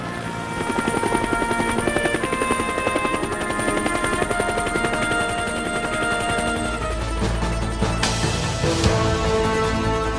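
A Bell UH-1 Huey military helicopter of the Vietnam War era, its rotor beating in a steady rapid chop with a whining turbine tone, loud and continuous, shifting slightly near the end.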